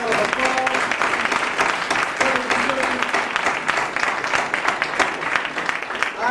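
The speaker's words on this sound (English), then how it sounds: "Let's give them all a big round of applause" Audience applause after a call to honor the youth at a Long Beach gathering, a steady dense wash of many hands clapping that holds at an even, fairly loud level throughout, with voices faintly mixed in.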